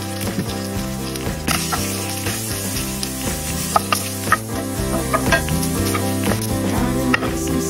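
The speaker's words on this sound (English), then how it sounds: "Our garlic is blonde enough, and we add the second ingredient, sausages." Sausages dropped into olive oil with golden garlic sizzle loudly and steadily up close, with clicks and scrapes of stirring, while a continuous tonal layer, likely background music, runs underneath.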